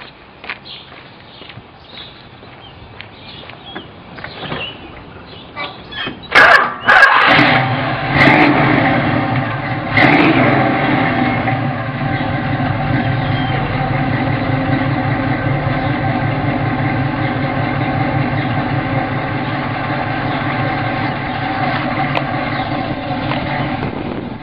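A Pontiac Firebird engine cranks with a few scattered clicks, catches with a loud burst around the middle, then settles into a steady, even rumbling idle close to the microphone.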